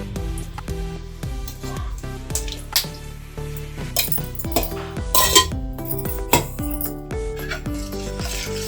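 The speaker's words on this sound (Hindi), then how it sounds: "मैं इसे मिक्स कर लेती हूँ।" A metal spoon stirs desi ghee into a coconut and sugar mixture for coconut ladoo in a pan, giving repeated clinks and scrapes of utensil against the pan, close and steady throughout with no talking.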